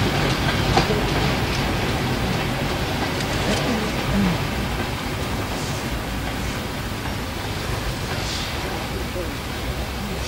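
Steam locomotive 3850 labouring hard on the Great Central Railway near Loughborough during a winter gala, a dense, steady rumble of train and rail noise throughout, with faint speech-like murmurs mixed in.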